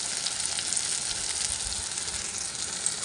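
Chopped tomatoes fry in a pan for prawn posto, giving a steady, even sizzle close by with faint crackles and no talking.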